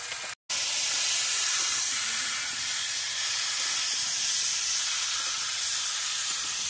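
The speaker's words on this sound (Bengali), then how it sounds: "হলুদ লবণ মশলাগুলোর সঙ্গে কষে নেবো।" River bhola fish curry with potato and eggplant being fried in a pan with turmeric, salt and spices, giving a loud, steady sizzling hiss that runs throughout after a brief break near the start, with no talking.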